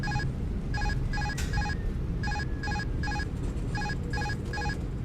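A phone chirps out a rapid repeating series of short electronic beeps in evenly spaced clusters, loud against a constant heavy rumble of a cockpit in a simulated A350 airliner.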